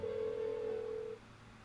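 A single steady electronic phone tone from Persona 4 Golden drones for about a second at moderate level, then cuts off abruptly, leaving quiet low background hum.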